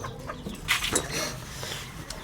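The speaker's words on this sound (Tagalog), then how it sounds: "Alam mo yung manok na yan?" A chicken clucks in short bursts, fairly close, over a faint background rustle with no talk.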